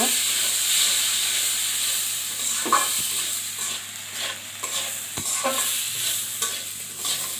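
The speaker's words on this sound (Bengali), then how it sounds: "বিরিয়ানির চালটা আমি ভালো করে কষাই নিব।" Pulao rice for biryani sizzles in hot oil with fried onions, a steady hiss broken by the scrape and clatter of a spoon stirring it every second or two.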